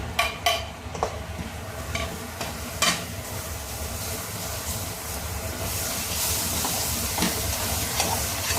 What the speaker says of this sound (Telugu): కాసేపు బాగా కలుపుకోవాలి ఫ్రెండ్స్. మన ఆయిల్లో బాగా రోస్ట్ అయినట్టు కలుపుకోవాలి.